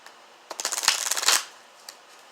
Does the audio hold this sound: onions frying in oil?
no